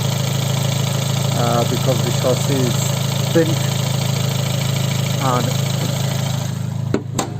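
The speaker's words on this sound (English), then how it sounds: "As you can see, the engine is running." A bent-chassis Abarth 124 Spider with a 1.4 turbo engine idles steadily nearby, a constant low hum with someone talking over it and a sharp knock near the end.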